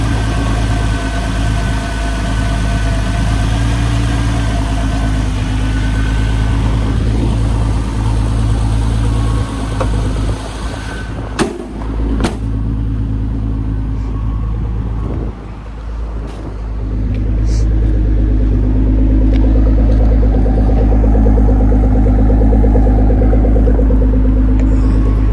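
A G35 twin turbo car engine idles steadily up close, a continuous low rumble with a faint whine above it, broken by a couple of brief clicks and a short dip before settling back to an even idle.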